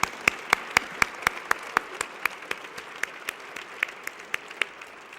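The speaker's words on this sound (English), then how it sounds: "So I want to make sure we give the MARTA Board of Directors a very vigorous round of applause." Scattered, sharp handclaps ring out in a steady, fairly even rhythm for about five seconds, applause from an early-morning audience for the MARTA Board of Directors, sounding like a modest number of people clapping rather than a dense crowd.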